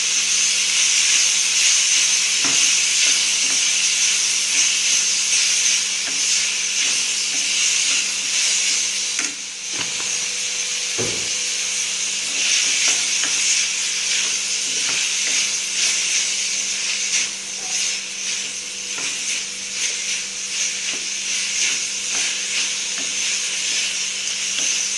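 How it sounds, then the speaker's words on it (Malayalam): Vegetables sizzling and frying in a pan while being stirred, a loud steady hiss throughout with a few faint scrapes. "ഒന്ന് ഇളക്കി കൊടുക്ക"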